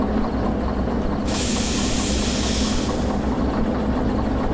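A locomotive in the game Derail Valley, uncoupled from its train, is being nudged: a steady mechanical rumble runs throughout, with a loud burst of steam hiss that rises and cuts off after about a second and a half.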